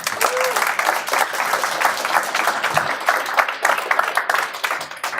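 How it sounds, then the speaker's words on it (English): Audience applause at a 1 Million Cups pitch event, a dense, steady wash of many hands clapping close by for several seconds, with a brief whistle-like tone near the start. "let's give a big round of applause"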